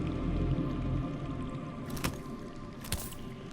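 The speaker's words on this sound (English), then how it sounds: "Listen. That's water. I hear water. From underground." Underground water echoes through a dark cave setting in the Game of Thrones video game, a low steady watery rumble with a couple of faint drips and splashes, ambient and distant, with no talking.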